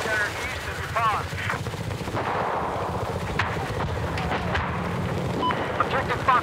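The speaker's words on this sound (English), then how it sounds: "I have eyes on a hostile machine gunner east of your pond." Machine gun fire in Battlefield 4 infantry combat on the Guilin Peaks map, a steady crackle of game gunfire and battle noise running throughout with distant explosions, and a voice heard briefly.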